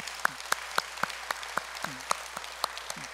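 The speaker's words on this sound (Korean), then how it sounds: "다시 한번 환영의 박수를 크게 드리겠습니다" Sparse applause from a small welcoming gathering, a handful of separate claps spaced about every quarter second, close and fairly quiet, with a faint low hum beneath and no voices.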